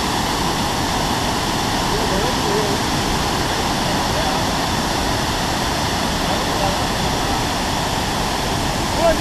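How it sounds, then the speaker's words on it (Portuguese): The Cachoeira da Pancada Grande waterfall near Ituberá, Bahia, roars as a loud, steady, broadband rush of falling water that fills the whole clip without pause. "Cachoeira da Pancalha Grande."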